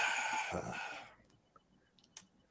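A rooster crows loudly up close, one long harsh call fading out, followed by a few brief faint clucks in near silence.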